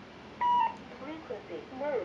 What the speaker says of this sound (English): After the confirmation beep